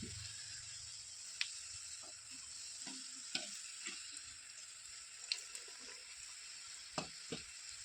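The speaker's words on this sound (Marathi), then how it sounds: "तर छानपैकी असे तळत पण आहे, तर चांगले तेल तापल्यामुळे खुसखुशीत पण झालेला दिसत आहे" Small hand-shaped samosas deep-frying in hot oil, a steady low sizzle with occasional light clinks and stirring taps, heard close with no one talking.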